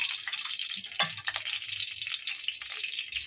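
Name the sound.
mustard oil heating in a wok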